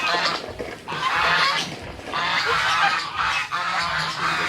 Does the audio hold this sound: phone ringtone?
no